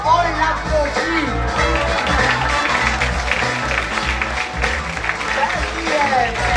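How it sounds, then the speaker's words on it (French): An audience at a charity fashion show applauds as a model walks out, steady clapping from a crowd under music and an announcer talking over it. "Ève, on l'applaudit."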